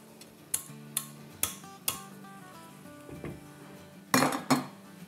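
Leftover rice goes into a pot for chicken biryani, with sharp metallic clinks of a spoon against the pot followed by a louder clatter and scraping of cookware, close and quiet in between.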